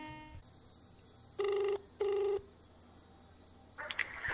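A phone call begins with a telephone ringing: two long, loud electronic rings with a pause between, followed by a brief click and tone as the line connects.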